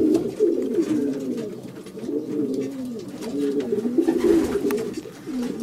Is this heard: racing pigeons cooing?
yes